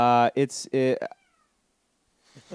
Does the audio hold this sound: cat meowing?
yes